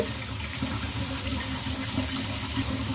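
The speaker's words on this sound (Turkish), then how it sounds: "yıkıyorum ve yıkadıktan sonra biraz da süzülmelerini bekliyorum" Fresh village peppers are rinsed under a running kitchen tap, a steady, close rush of water splashing into the sink for the whole stretch, alone with no voices.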